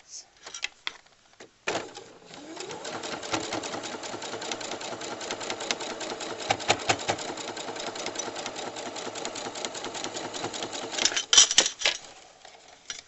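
A sewing machine runs steadily while stitching a pineapple quilt block, a fast, even mechanical whir lasting about ten seconds, framed by a few short clicks and handling sounds before and after.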